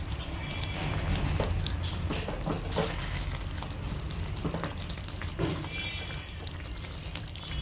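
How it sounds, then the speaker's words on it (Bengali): Mustard chicken with chopped coriander being stirred and frying in a pan, a steady close sizzle with soft scraping stir strokes throughout, no talk. "আরও একবার ভালো করে নেড়ে মিশিয়ে নেবে।"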